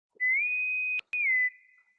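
Bozeman whistle blowing in two steady, loud tonal blasts separated by a brief gap, the first rising slightly in pitch and the second tapering off, with no talking.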